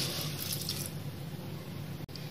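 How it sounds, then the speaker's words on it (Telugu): Water poured into rava dosa batter gives a steady, close trickling and splashing flow that runs continuously for about two seconds before a brief cut. "ఇప్పుడు వాటర్ ని యాడ్ చేసుకుందాము."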